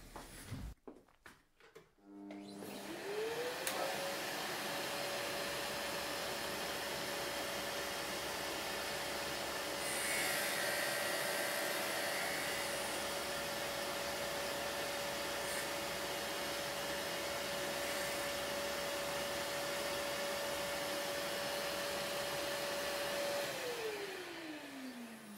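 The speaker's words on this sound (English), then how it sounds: "I have my dust collector hooked up to the surface grinder as we're grinding carbide." A surface grinder regrinding a carbide insert while a dust collector runs, a steady whine rising after a few seconds and holding evenly for about twenty seconds before winding down, with continuous broadband machine noise throughout and no talking.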